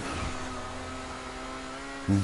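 A car engine in GTA 5 hums steadily at a fairly loud level, then gives a short, sharp rev at the very end.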